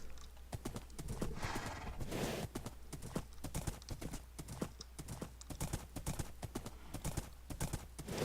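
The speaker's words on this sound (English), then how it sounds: "I brought a horse" Horse hooves clip-clop in a video game, a steady rhythmic trot of hoof beats with a low hum underneath, fairly close and without speech.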